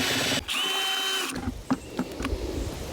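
Power drill churning low-fire clay slip slurry, a steady high whine for about a second before cutting off, then stirring clatter and knocks from the mixing bucket.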